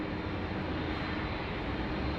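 Jetstar jet airliner taking off at Sydney Airport, a continuous loud, broadband engine roar that holds steady throughout, heard from a distance with no voices.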